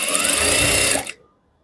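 Sewing machine stitching the hem of a katori blouse, a steady close whirring run of about a second that stops abruptly, leaving near silence.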